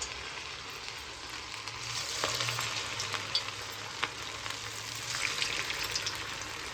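Garelu, lentil fritters made with onion, curry leaves, cumin and sesame, fry in hot oil in a steady moderate sizzle with occasional sharp pops, and no one speaks.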